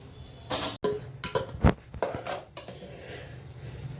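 A lid set onto a pot of dough for ukad on the stove, a few clattering metallic knocks and a sharp clank, close, followed by quieter rustling.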